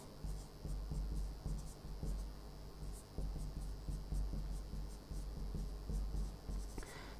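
Pen or marker scratching across paper while labeling a nephron diagram, a steady close run of short scribbling strokes with brief pauses between words.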